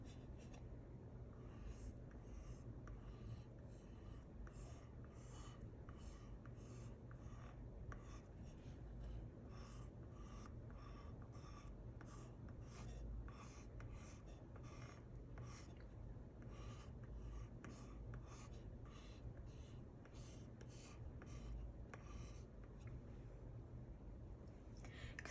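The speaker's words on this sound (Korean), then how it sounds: "먼저 연필로 스케치를 그려줍니다." A pencil scratches steadily across a porcelain surface while sketching flowers, a soft continuous rasping of repeated strokes, close and quiet throughout, with no talk.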